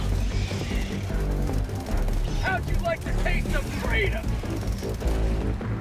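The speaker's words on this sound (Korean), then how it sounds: "3중 총열 기관총을 고속으로 난사하는 센트리입니다" An AG-16 Gatling sentry in Helldivers 2 fires its triple-barrel machine gun in a continuous, dense, loud stream of rapid shots, with someone talking over the gunfire.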